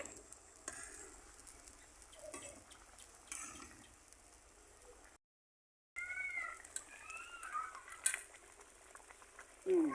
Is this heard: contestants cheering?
no